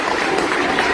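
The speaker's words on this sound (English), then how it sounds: "Give him a round of applause." Students in a high school hall applauding in a dense, loud, continuous wash of clapping with crowd noise mixed in, steady for the full second.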